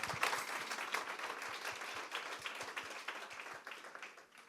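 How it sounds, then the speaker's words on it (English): Audience applause for a guest speaker at a live conversation event on AI in education, a steady wash of many hands clapping at moderate distance that fades gradually toward the end. "Let's give Dr. Leibowitz a round of applause."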